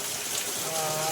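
Soft, steady hiss of rain falling, an even wash of sound with no breaks.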